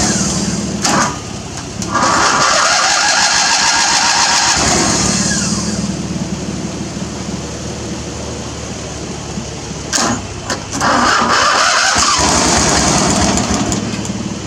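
A Murray riding mower with gas poured in the carburetor and jumper cables attached cranks and fires, a loud close engine that surges and revs in two bursts, with whining and whirring between.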